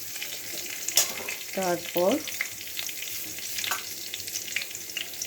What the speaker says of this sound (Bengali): একটু লঙ্কা দিয়ে দিলাম, কাঁচা লঙ্কা। একটু ভাজা ভাজা করব।